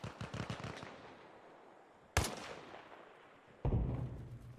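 A sniper rifle in the Tiny War game fires three separate sharp, loud shots spaced a second or two apart, each cracking sharply and then trailing off in a rolling echo.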